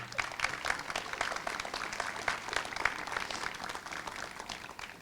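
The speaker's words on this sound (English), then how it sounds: "please give yourselves a round of applause" Audience applause fills a school open house at Knapp Elementary, a steady wash of many hands clapping at once, fairly near and moderately loud, holding evenly throughout with no voices breaking through.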